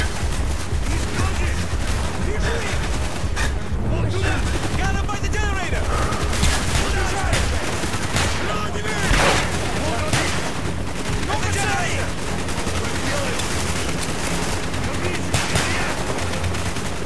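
Dense automatic gunfire and scattered shots in the video game Call of Duty: Black Ops, a continuous loud barrage of machine-gun bursts mixed with game voices and chatter.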